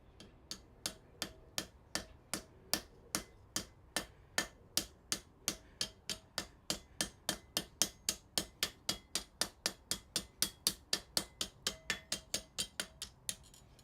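A straight peen hammer strikes a leaf spring on an anvil in a smithy, a fast, even series of around forty sharp metallic blows, close and alone with no talk.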